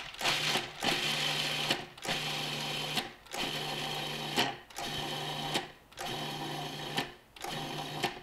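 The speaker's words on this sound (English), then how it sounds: "you're going to put that into your food processor, and you're going to pulse that a little bit" Food processor pulsing garlic for basil pesto: six loud motor bursts, each about a second long, separated by brief pauses, with no talking.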